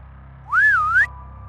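A person whistles one clear, bright tone that rises, dips and climbs again, held for about half a second and heard alone over a low steady background hum.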